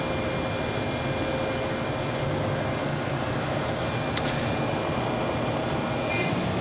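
An Ares Seiki CNC drilling and tapping center with its spindle running at 10,000 RPM, a steady, fairly quiet mechanical hum and whine with a thin high tone, plus a single brief click partway through.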